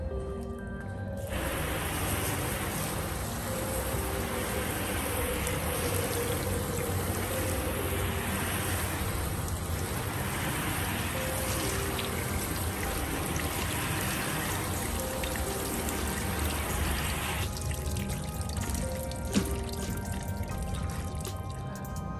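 Continuous spray of water rinsing car paint test panels, a steady wide hiss and splatter lasting about twenty seconds, close and fairly loud, with a brief change in the stream near the end.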